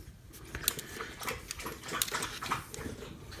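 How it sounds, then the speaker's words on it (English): A thirsty dog laps water close by in quick, uneven splashy laps, with faint soft movement and no talking. "Hear my dog drinking water."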